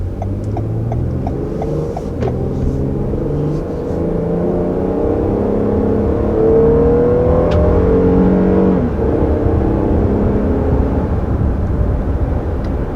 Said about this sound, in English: This is a nice and powerful sounding engine as well